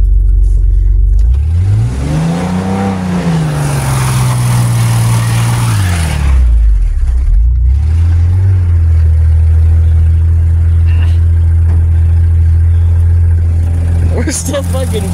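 A 1998 Ford F-150 XL two-wheel-drive pickup revs hard in deep ruts, the engine swelling and falling in loud, close surges while the rear wheels spin, then settling into a rough high drone; people talk over it.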